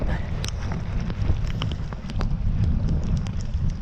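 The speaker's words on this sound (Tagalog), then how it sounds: "Buti hindi na masyado lumakas yung ulan," Steady rain with wind noise during a gravel bike ride from Batakil to Malokiat, a dense broadband hiss with scattered sharp ticks and a low rumble, continuous and fairly close throughout.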